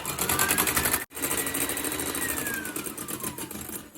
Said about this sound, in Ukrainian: Беру міксер і починаю це все збивати.